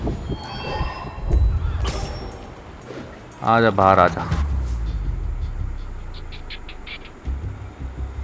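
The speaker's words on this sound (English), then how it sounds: "कितनी दूर जाएगी भाई ये ट्रेन?" A subway train in Spider-Man Remastered video game rumbles and clanks along, with a sharp burst of squealing metal wheels midway, heard mostly under someone speaking in Hindi.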